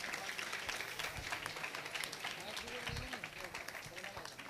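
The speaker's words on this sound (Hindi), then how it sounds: "जोरदार तालियों के साथ इनके स्वागत कीजिए।" Applause from an audience at a school event in Kota, greeting guests as they are welcomed, a steady wash of clapping with crowd noise and some voices mixed in.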